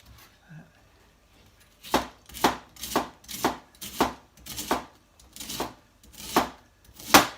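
Cabbage being sliced for sauerkraut on a board, a quiet lead-in followed by about eight crisp, evenly spaced knife chops, close and fairly loud, with no talking.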